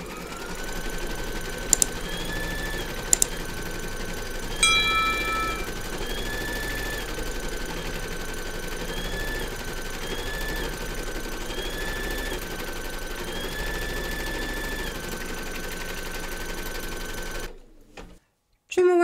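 An embroidery machine stitches a placement outline on batting held in a hoop, humming steadily and close for most of the stretch with brief clicks and faint tonal beeps, then stopping abruptly near the end.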